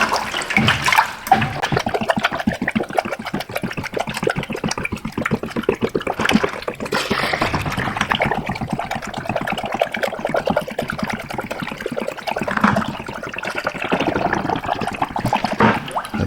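Coolant pours steadily out of a bucket in a continuous gushing stream, splashing and gurgling close by with no talking.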